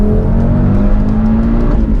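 An Audi TT RS engine revs hard on a race track, a loud, steady high-pitched drone of acceleration filling the whole stretch with no talking.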